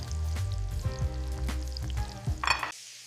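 Onions and beef sizzle as they land in a hot frying pan, a steady crackling fry under music-like tones that swells briefly near the end, then cuts off abruptly.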